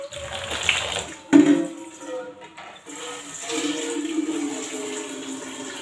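Water poured from a height into a cooking pot being readied for couscous, a splashing, gurgling stream that runs steadily with a brief louder surge, close by in a home kitchen.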